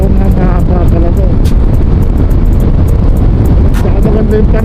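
Steady, heavy wind buffeting the microphone on an ADV 160 scooter ride, a loud continuous rumble with faint rising and falling engine tones underneath and brief higher bursts.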